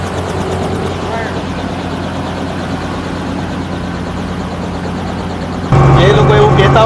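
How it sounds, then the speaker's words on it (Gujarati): A helicopter flies nearby with a steady, loud rotor and engine drone throughout, growing louder and harsher near the end, while people talk over it. "મોટા બેન હેલિકોપ્ટર ચલાવે છે, બોલો."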